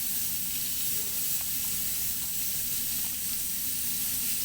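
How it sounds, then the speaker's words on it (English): Steady, dense sizzling of oil in a hot pan as mutton curry with cumin cooks, a constant close hiss throughout with no voices. "you can hear the sizzles"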